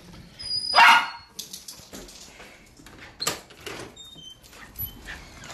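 A dog barks in a short loud burst at someone arriving at the door, followed by scattered thumps and shuffling nearby, with no talking.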